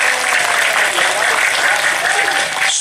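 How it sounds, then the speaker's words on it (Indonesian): A religious lecture audience in Subang claps together in a dense, steady patter for a few seconds, fairly loud, with a faint tonal whine running underneath. "Tepuk tangan untuk teman-teman kita Korea."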